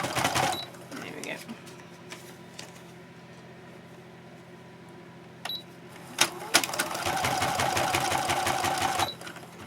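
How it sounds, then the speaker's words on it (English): Paper being stitched on a sewing machine for craft-fair matchbooks: bursts of rapid mechanical whirring and needle clatter, a short run early, then a longer steady run near the end, with quieter handling sounds between. "So I do have one sewing machine for material and one for paper"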